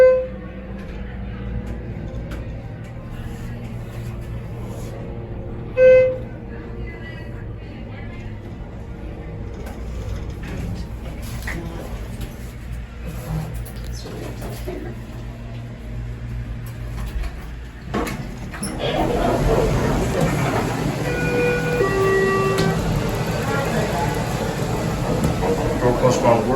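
A Schindler 300A hydraulic elevator at FAO Schwarz in Rockefeller Center going up, starting with door and bump noises and then a steady hum and whine in the later part, with people talking in the background and a brief chime.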